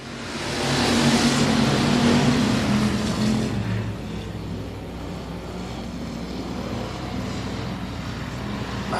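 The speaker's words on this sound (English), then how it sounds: "They hit the loud pedal, we're racing." Race cars roar on the oval at Big O Speedway right after the green flag, a loud layered engine drone that swells in the first few seconds and then settles into a steady, slightly quieter roar.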